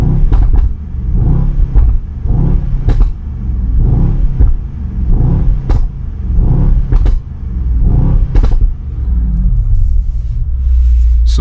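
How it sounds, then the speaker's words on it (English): A 2020 Mercedes-AMG S63 4MATIC+ sedan's V8 engine rumbles loudly up close in Sport Plus mode, with repeated revs and bursts of acceleration rising and falling over a deep throaty drone. "So that is the sound of an S63 AMG Mercedes-Benz."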